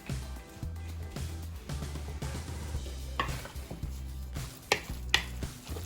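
Spicy pork dumpling filling is mixed by hand in a bowl with steady, moist stirring and squelching, plus a few sharper clinks near the end, close and fairly quiet, with no talking.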